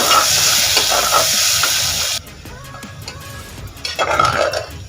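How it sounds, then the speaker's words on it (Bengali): Chopped onions and whole spices such as star anise, cloves and peppercorns fry for a mutton curry, a loud bright sizzle that drops away abruptly partway through, leaving faint clinks before the sizzling swells back. "পেঁয়াজটা লাল করে ভেজে নেব"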